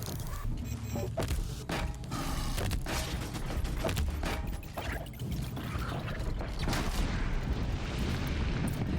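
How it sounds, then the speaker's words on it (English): Explosions and combat in Horizon Zero Dawn, a dense run of booms, thuds and crackling blasts with a continuous loud rumble underneath, no speech. "Cool girls don't look at explosions!"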